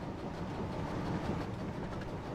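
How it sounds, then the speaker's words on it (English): A steam train from a Thomas & Friends game runs with a continuous low rumble and soft rhythmic clatter, steady and fairly quiet throughout, with no voices. "The train was soon running nicely, and James began to feel confident."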